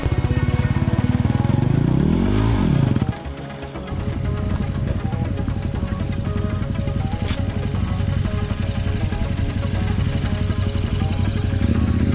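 An off-road motorcycle is ridden back over rough ground. Its engine rises and falls loudly at first, then drops to a steady, close, rumbling drone that continues to the end.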